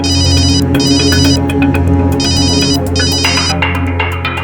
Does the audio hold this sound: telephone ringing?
yes